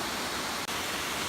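A Black Forest waterfall, one of a chain of cascades, pours in a dense, steady broadband rush, close and constant with a momentary dip midway.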